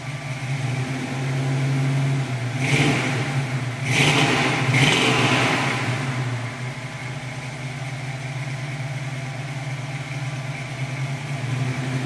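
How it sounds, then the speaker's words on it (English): A 1968 Ford Shelby Mustang GT350 idles with a steady, deep rumble through ceramic-coated headers and a true dual exhaust, with a few quick throttle blips early on before settling back to a smooth idle. "ceramic-coated headers send spent gases into a great-sounding true dual exhaust system"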